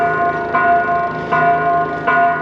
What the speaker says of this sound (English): Probably one of the most beautiful bells I've heard from a cathedral anywhere, like even more so than Europe.